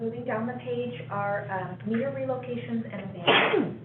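Someone speaks steadily during a water rates committee meeting, then a single sharp sneeze bursts out at the end, louder than the talking.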